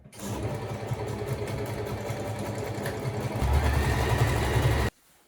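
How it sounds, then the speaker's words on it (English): A sewing machine stitching straight seams on a dress at a steady fast rhythm, close and continuous, speeding up briefly near the end before stopping abruptly. "I stitch the new seams with regular straight stitch on my sewing machine"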